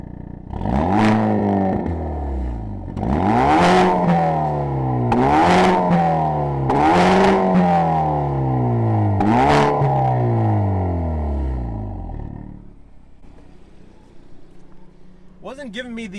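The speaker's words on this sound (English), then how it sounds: "I'm gonna put it in sport mode, N mode, and then Phil's gonna jump back there to hear the exhaust." Hyundai Veloster N Performance Pack exhaust in N mode, revved in a series of sharp blips that rise and fall, about five or six loud bursts close by, then the engine settles to a quiet idle near the end.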